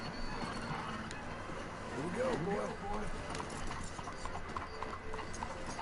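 A horse in Red Dead Redemption 2 clip-clopping at a walk, soft repeated hoofbeats under someone talking over the game audio.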